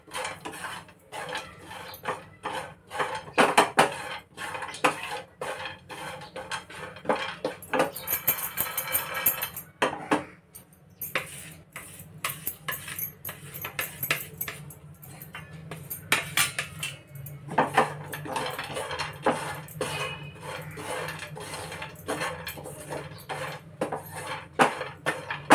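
Shelled peanuts are dry-roasted in a pan for a long-keeping garlic chutney, with continuous rattling and scraping of nuts and spatula against metal, irregular and moderately loud, occasional brief lulls, no speech.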